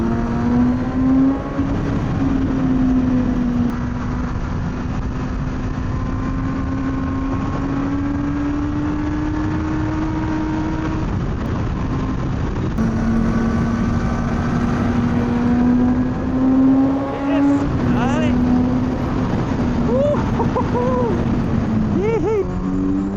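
A 2020 Kawasaki Z900RS motorcycle rides out of town, its engine droning steadily with rising and falling pitch as it accelerates and shifts, loud and continuous with wind noise, briefly easing off before pulling again.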